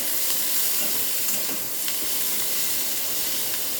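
Onion, green chili and garlic fry with salt in a pan over gas for a pointed gourd dish, a loud, continuous close-up hiss of sizzling oil with a few faint clicks.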